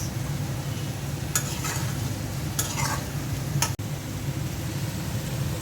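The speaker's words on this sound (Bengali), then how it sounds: "ট্যাংরা মাছটা কষিয়ে নিলাম" Tengra fish being sautéed with green chilies in a pan gives a steady, close sizzle throughout, with a few scraping stirs and one sharp click near the end.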